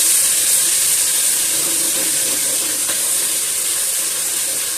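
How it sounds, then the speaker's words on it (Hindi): Ginger garlic paste sizzles in hot oil in a pan for a mango salan, making a steady, close, continuous hiss with no voices over it. "जी तो अदरक लहसुन पेस्ट मैंने शामिल कर दिया है इसमें"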